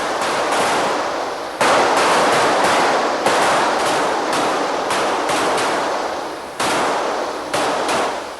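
Navy recruits at boot camp fire .45 caliber automatic pistols on a firing range, a loud, dense volley of overlapping shots cracking continuously with sharp peaks from nearby guns.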